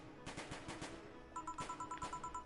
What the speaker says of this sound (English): I see lots of flashes in the distance. Most likely gunshots.